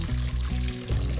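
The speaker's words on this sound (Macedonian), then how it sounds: "Во длабоко тенџере ставаме веќе завриена вода" Already boiled water poured into a deep cooking pot, a steady gurgling pour heard up close and alone for a moment.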